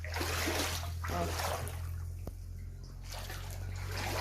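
Floodwater runs steadily into a garage, a continuous rushing and splashing wash with a low hum beneath, heard fairly close throughout with a brief sharp knock midway.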